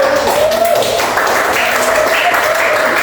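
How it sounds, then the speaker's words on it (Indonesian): A class of students applauds a group, steady dense clapping filling the room with a faint tonal whine running underneath. "tepuk tangan untuk kelompok Ban dulu"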